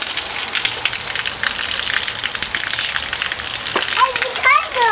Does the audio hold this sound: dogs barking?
no